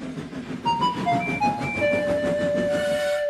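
A Thomas & Friends steam engine chuffs along the rails with rhythmic puffing and rattling under a sustained, rising whistle tone, loud and close.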